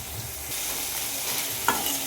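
Beans stirred in a pan over a low flame give a soft, steady sizzle with light scraping and one brief clink near the end, close and quiet, with no talking.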